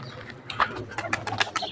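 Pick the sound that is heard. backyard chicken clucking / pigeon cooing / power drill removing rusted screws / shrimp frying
pigeon cooing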